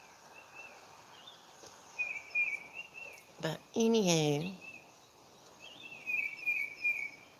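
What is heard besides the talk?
birds singing outdoors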